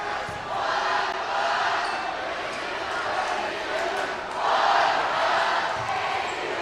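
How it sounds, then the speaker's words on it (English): A loud crowd roars at a boys varsity high school basketball game, a continuous dense din that swells near the end, with a voice talking over it. "Loud crowds both here tonight."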